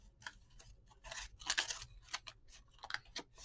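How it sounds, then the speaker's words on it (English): Paper being torn off, heard as a series of short, crisp ripping bursts close to the microphone, fairly quiet, with pauses between tears. "let's just tear this one off and see where that goes"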